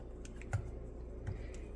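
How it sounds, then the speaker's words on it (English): Kitchen scissors snip through raw chicken for a cheesy loaded chicken bake, giving two quiet, crisp clicks about three-quarters of a second apart over a low, steady room hum. "Gonna cut them into pieces. Get your handy dandy kitchen scissors here."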